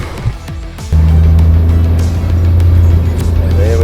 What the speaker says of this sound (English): We're driving along at the moment.